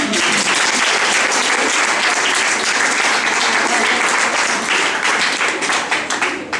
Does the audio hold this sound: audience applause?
yes